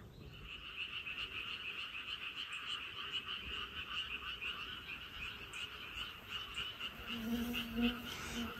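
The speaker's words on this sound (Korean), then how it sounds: "이제 개구리 소리가 정겹게 들릴 때입니다." Frogs croak outdoors on a farm in a dense, continuous chorus of rapid, rattling calls at moderate distance, with faint insects beneath and a lower croak joining near the end.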